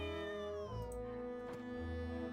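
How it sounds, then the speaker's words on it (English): Cat meowing in a drawn-out, wavering cry that bends downward in pitch, with a short extra yowl near the end, heard alone and fairly close. "Oh, cat."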